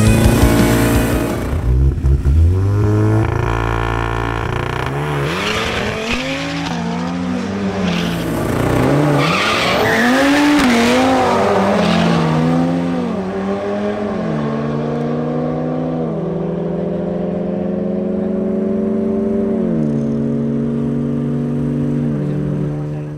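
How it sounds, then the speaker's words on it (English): Drag race between an Audi RS3 and a Volkswagen Golf GTI: engines rev hard through repeated upshifts as the cars launch and pull away, the loud roar then fading into a steadier, more distant drone. "the duel that will determine the third place on the podium between Pedro Mogollon's Audi RS3 and Guillermo Umana's Volkswagen Golf GTI"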